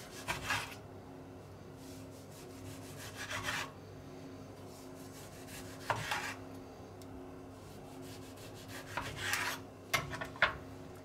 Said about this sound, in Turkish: Halka halka doğruyoruz.